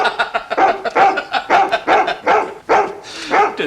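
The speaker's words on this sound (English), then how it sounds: "Do keep that dog quiet" A dog barks repeatedly at close range in a quick, uneven series of sharp yaps with short pauses, loud and dominating the scene.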